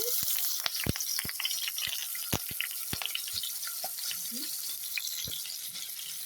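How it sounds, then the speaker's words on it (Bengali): Shrimp coated in salt and turmeric fry in hot soybean oil, a steady close crackling sizzle with sharp pops and spatters scattered throughout, running on its own with no talk. "চিংড়ি মাছ তেলের মধ্যে দিয়ে দিয়েছি। এবার এপাশ ওপাশ ভেজে নেব।"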